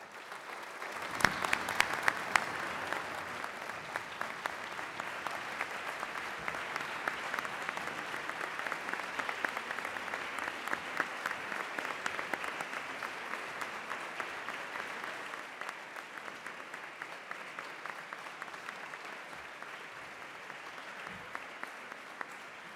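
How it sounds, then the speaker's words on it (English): Audience applause fills a graduation ceremony hall, a sustained dense clapping from a large crowd that swells early, holds steady for about twenty seconds, then thins toward the end. "give to the people who are here today and to those who couldn't fly away from home a warm round of applause"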